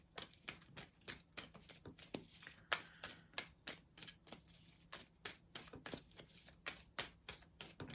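Tarot cards are shuffled by hand as a steady run of quick, crisp riffling slaps close to the listener, repeating in a brisk, even rhythm throughout.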